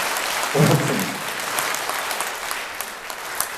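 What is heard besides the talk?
audience applause at a lecture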